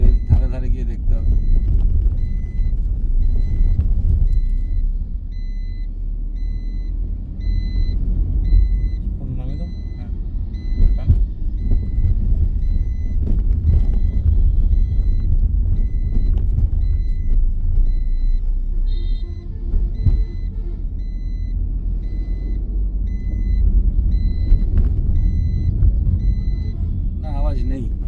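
Maruti Brezza ZXI Plus (2021) with newly replaced front shock absorbers driving over a bumpy, potholed road, a steady low engine and road rumble from inside the cabin, with people talking throughout.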